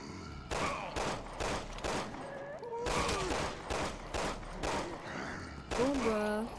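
Video game gunfire in Resident Evil 6: a series of regularly spaced shots cracks through the scene, mixed with game effects and a voice talking over it.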